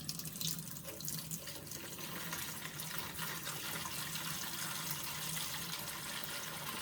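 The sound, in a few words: water pouring from Great Value filter pitcher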